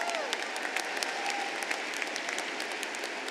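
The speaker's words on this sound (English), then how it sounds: "Let's give them a round of applause." A high school commencement audience claps in a large space, a fairly even patter of many hands heard at moderate distance with a faint whistle in the background.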